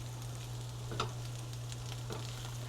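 Shallots and chickpeas fry in a pan with a steady, quiet sizzle over a low electrical hum, broken by a couple of soft clicks.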